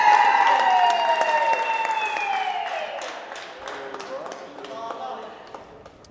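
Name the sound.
audience applause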